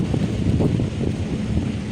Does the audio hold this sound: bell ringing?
no